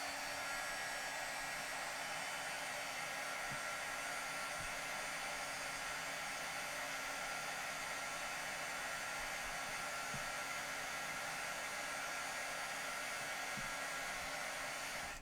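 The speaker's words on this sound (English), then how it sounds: "So when I'm bringing in my heat tool, like I said earlier, I just heat it until it gets nice and shiny" A craft heat tool blows a constant, even hiss of hot air while melting embossing powder on cardstock, steady throughout with no pauses.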